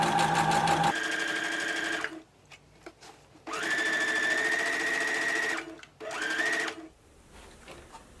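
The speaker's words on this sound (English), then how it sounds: "Lower your needle, begin sewing, back stitch. Now continue sewing until you get to the end and back stitch again." An electric sewing machine stitches a seam on a maxi dress top, whirring steadily in several bursts with short pauses and reverse back-stitch runs at the start and end, heard alone and close.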